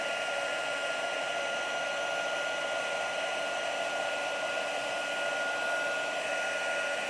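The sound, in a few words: embossing heat tool heating until shiny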